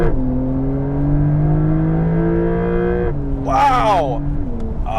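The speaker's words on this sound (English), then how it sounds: "6500 red line is unbelievable. The resonance of the engine completely changes." Porsche 911 flat-six revving steadily up toward its 6500 rpm redline, a loud rising harmonic drone that drops after a shift, with a voice briefly exclaiming over it near the end.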